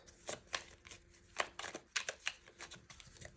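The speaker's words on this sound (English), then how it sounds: "I'm going to shuffle the rest." Quiet riffling and flicking of a tarot deck being shuffled, a series of soft rapid bursts in irregular rhythm, close by.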